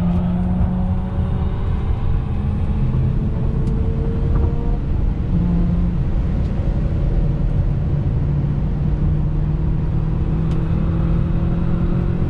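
A Tesla Model 3 Performance in track mode accelerates hard on a racing circuit, a loud, steady electric-motor whine and road rumble with rising tonal sweeps, no voices.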